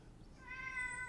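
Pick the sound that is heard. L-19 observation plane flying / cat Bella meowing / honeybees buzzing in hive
cat Bella meowing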